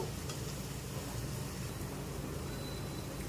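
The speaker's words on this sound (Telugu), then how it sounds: "ఆనియన్స్ కొంచెం వేగాయండి, ఈ మాత్రం వేగితే సరిపోతుంది" Onions frying in a pan for a Telugu-style chicken fry, a steady soft sizzle with faint crackle that carries evenly throughout, no voices.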